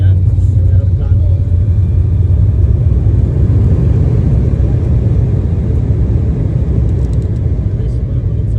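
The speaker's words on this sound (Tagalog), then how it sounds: "Yung aeroplano." Steady, loud low rumble of an airliner landing and braking on the runway, heard from inside the cabin, constant and unbroken throughout with no voices.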